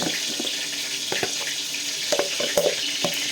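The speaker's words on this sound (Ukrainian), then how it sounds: "Це віддивні жариться" Meat cutlets sizzle and crackle in a frying pan, a soft steady hiss broken by scattered sharp pops and spits, close by with nobody talking.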